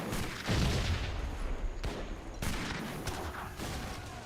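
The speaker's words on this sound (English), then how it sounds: "They're just getting gunned down by the Carolines." Musket volleys from Carolean musketeers in an Age of Empires 3 battle, a run of sharp crackling shots and low booms at moderate distance, steady and unbroken, with no speech.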